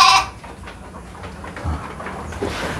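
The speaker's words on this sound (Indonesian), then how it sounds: "ini domba kami yang baru melahirkan" A Dorper sheep on a farm gives one short bleat at the very start, near and fairly loud. After it comes quiet pen ambience, with a few faint shuffles and a soft low thump.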